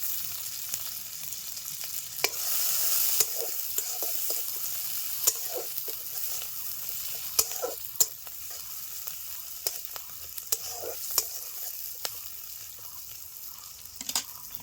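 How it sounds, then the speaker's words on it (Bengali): Whole cumin, chopped onion and slit green chilies sizzle in hot oil, a constant frying crackle broken by sharp stirring clicks and scrapes, fairly close with no voices. "ফোড়নে দিয়ে দিচ্ছি গোটা জিরা, পেঁয়াজ কুচি, কাঁচা লঙ্কা চিরা"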